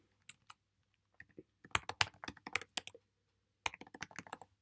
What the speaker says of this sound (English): let's just type in the credentials here